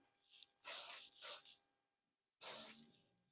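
Hair spray misted onto a finished updo: three short, close aerosol bursts, a brief pair followed by a single longer spray after a pause, with nothing else around them.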